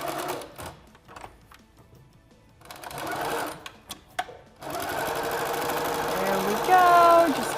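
A sewing machine runs in short bursts, then settles into a steady, loud stretch of stitching across fabric lines. Faint talk sits between the bursts.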